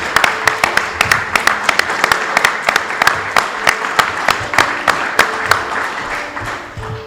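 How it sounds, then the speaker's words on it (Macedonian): Audience applauding at a book launch for a novel, many hands clapping in a brisk, fairly even rhythm with sharp distinct claps, loud and close, tapering slightly at the end. "Да ја поздравиме со еден громогласен аплауз"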